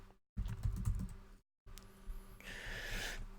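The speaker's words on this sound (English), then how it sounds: "Can't see what I'm typing" Keys clatter on a computer keyboard in quick uneven bursts, broken by two brief dropouts into silence, fairly quiet and close with no voices.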